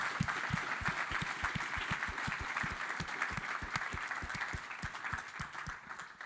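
Conference audience clapping in a hall, a sustained round of applause with distinct individual claps standing out near the microphone, fairly soft and even throughout.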